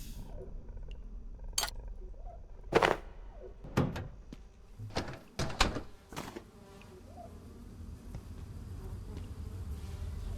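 Wasps buzz around a hive in the video game Abiotic Factor, a faint, steady insect drone with several sharp clicks and clinks scattered over it.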